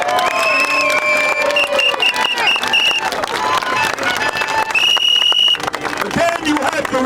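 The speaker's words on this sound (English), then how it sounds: "Let's give them all a great round of applause." Applause and cheering from a protest crowd outdoors on Staten Island, with a whistle and shouts, rising and falling loudly over about seven seconds as voices talk through it.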